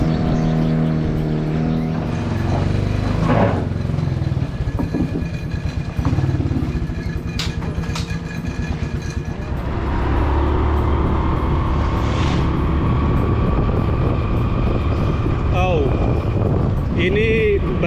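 A motorcycle ridden along a rough track through an oil palm transmigration settlement, its engine revving and labouring continuously and loudly close by, with pitch rising and falling as it climbs and shifts.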